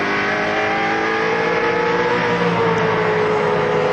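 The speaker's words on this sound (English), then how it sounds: "This is the view from the back of Wayne Gardner's Coca-Cola Commodore." Onboard engine note from a Holden Commodore touring car racing at Calder Park in 1997, a loud, continuous high-revving roar with steady harmonic whine throughout, no voices.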